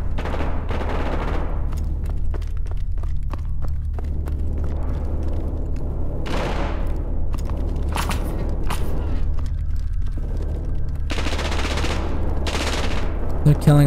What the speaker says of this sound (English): There's guys down there with guns, they'll shoot us.